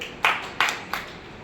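Three short bursts of clapping from an audience at a Women's Day speech event, each a quick sharp swell that fades within a fraction of a second, fairly faint and spaced about a third of a second apart.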